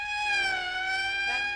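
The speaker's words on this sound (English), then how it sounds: "That's the 5th siren in the last hour." A police or emergency vehicle siren wails steadily in a sustained high tone, heard alone at moderate distance in a 1959 film scene.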